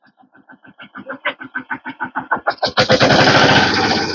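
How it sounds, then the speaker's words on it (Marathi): A tractor engine cranks and sputters with rapid rhythmic pulses that build quickly, then catches into a loud, steady roaring run close by. "ट्रॅक्टरचा आवाज येतोय"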